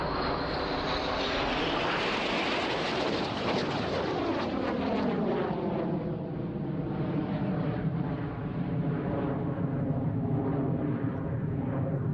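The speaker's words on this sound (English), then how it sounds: "The C-17, the Royal Air Force's newest transport. An absolutely enormous aeroplane, this." A Royal Air Force C-17 military transport jet roars overhead at an air display, its loud engine rumble sweeping down in pitch as it passes and then trails off steadily.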